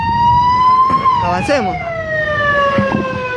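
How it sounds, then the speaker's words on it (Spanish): An ambulance siren wails loudly nearby, sweeping up and then slowly down in pitch at the scene of a street shooting, with someone speaking briefly over it. "ahí viene la ambulancia"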